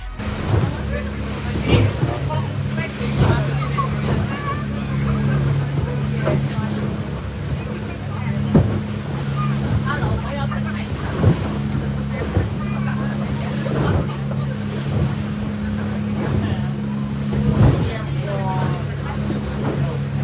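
A motorboat engine drones steadily while rough waves slap and splash against the hull in irregular bursts, with wind buffeting the microphone throughout, off Nusa Penida, Bali.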